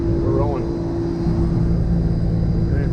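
Inside the cockpit of a Beechcraft King Air A90 turboprop as it begins taxiing, engine drone and a steady whine fill the cabin continuously, loud and close, with a brief muffled intercom voice.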